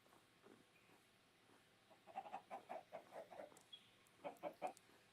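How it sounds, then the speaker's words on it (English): Chickens clucking in a video game, a faint run of short bursts from the virtual birds, clustered mid-clip and again near the end, over a quiet background. "There are chickens on top of Tehe's house."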